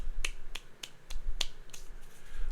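A man claps his hands several times while playing a Magic: The Gathering game, sharp quick claps at an uneven pace, close and fairly quiet over a low room hum, no talking.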